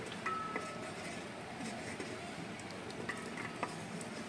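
Faint stirring as turmeric powder is mixed into hot water in a pot, with a few light clinks of a spoon against the metal over a quiet, steady background.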